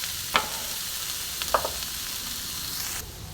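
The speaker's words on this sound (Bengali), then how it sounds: "যে আবারও কিছুক্ষণ ভাজা করব।" A pumpkin, coconut and peanut mixture for chops fries in a pan, giving a soft, even sizzle with a couple of sharp utensil clinks as it is stirred.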